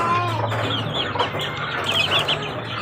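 A hen and her chicks cluck and peep close by on a rainy farm, a steady mix of soft clucks and high chirps with no talking.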